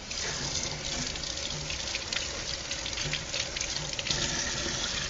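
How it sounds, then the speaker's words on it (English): Warm water runs steadily from a kitchen sink tap while hands are washed with soap, a continuous close splashing rush with small shifts as the hands move under the stream. "You want to make sure you're washing with warm water and soap like we are"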